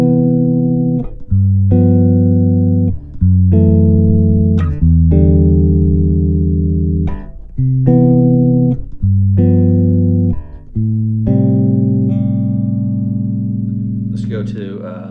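Zon Legacy Elite six-string bass played through its neck pickup, a series of sustained, warm, round notes and chords ringing loud and close, with short breaks between phrases and a final string noise.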